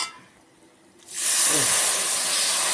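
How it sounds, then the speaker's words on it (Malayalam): Vinegar is poured into a hot pan of spice paste for beetroot pickle: after a quiet moment, a sudden loud, sustained hiss and sizzle bursts up and keeps going steadily. "നമുക്ക് ഇതിലേക്ക് വിനാഗിരി ഒഴിച്ചു കൊടുക്കണം"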